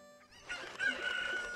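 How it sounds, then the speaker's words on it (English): A chicken in the video game Ocarina of Time, a bright crowing-clucking call that rises after a brief pause and holds, close and clear with no talking over it. "I picked up a chicken."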